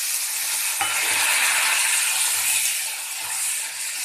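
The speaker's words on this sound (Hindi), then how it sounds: "मैं इसमें डाल देती हूँ कटे हुए टमाटर और हमें इसे चला लेना है" Chopped tomatoes are stirred into fried onions in a pan, a loud, close sizzle with a sharp spoon scrape near the start and steady scraping strokes, without speech.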